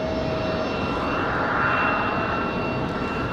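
An airliner on final approach in strong, gusty wind at Raleigh-Durham, its jet engines a loud, steady drone with a thin whine riding on top, heard alone and close.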